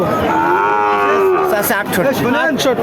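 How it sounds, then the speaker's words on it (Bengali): A Red Sindhi cow lets out a loud, close, drawn-out moo at a cattle market for heifer calves, followed by a second, shorter bellow with faint crowd noise behind. "লাল সিন্ধি জাতের একটা গরু খুব চমৎকার গরু"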